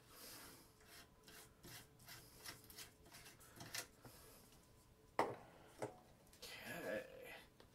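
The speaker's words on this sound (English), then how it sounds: "Let's unscrew the 60 watt and let's put the new 250 in there just for comparison purposes" A 60 watt light bulb being unscrewed from its socket gives a series of soft, close, irregular scraping and squeaking rubs with brief clicks, spread over several seconds.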